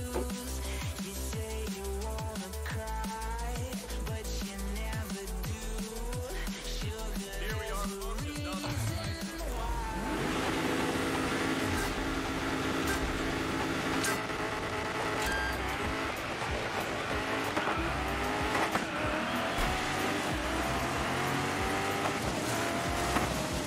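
An Aston Martin race car in the DiRT 5 video game revs hard with rising and falling engine pitch and gear shifts, becoming denser and noisier with tire and surface sounds over a long continuous stretch.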